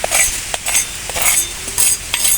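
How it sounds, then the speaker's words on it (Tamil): Chana dal frying in hot oil in a pan while being stirred, a steady close sizzle broken by rhythmic scraping strokes of a utensil with light clinks, no voices. "இந்த அளவுக்கு கடலப்பருப்பு எடுத்து இதையும் போட்டு வறுத்துக்கிடுவோம்"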